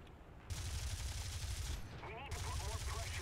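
Aircraft machine-gun fire strafing anti-aircraft gun positions in the War Thunder combat game, played from a P-40 fighter: loud dense rapid bursts with a steady engine drone underneath, near and continuous.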